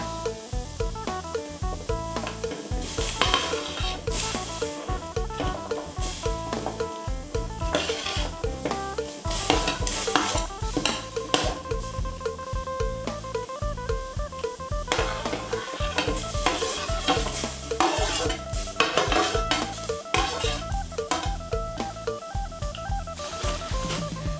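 Galangal, lemongrass, kaffir lime leaves, shallots, garlic and chili stirred into a pot for a Thai sour soup with young tamarind leaves, giving a steady scraping, stirring clatter over a constant bubbling sizzle with no talk.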